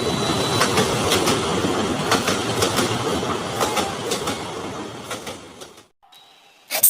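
Cartoon sound effect of a running train, a steady rhythmic clickety-clack of wheels on rails with squeals and rattles, loud and continuous before fading out near the end, followed by a brief sharp sound.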